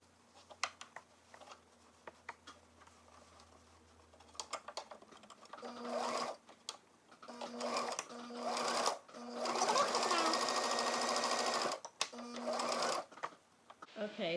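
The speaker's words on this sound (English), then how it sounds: "I've sewn my flaps on both sides" A sewing machine stitches the flaps onto a homemade fabric face mask in bursts of steady, close mechanical whirring, stopping and restarting several times after a quiet start with faint handling sounds.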